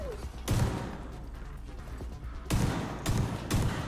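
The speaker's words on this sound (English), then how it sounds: "I'm just using the new shotgun at the moment" Shotgun blasts in The Division 2, four loud, heavy shots, one early then three in quick succession near the end, over a low game background.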